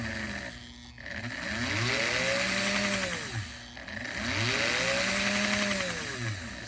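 The electric motor of a prewar 1940/41 American Flyer O gauge K-5 Pacific steam locomotive runs up twice. Each time it whirs and whines higher as it winds out, then eases back down, close and fairly loud.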